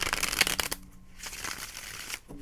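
Tarot cards being shuffled in quick riffling bursts, crisp papery flutters followed by a softer slide and a brief pause, close and alone.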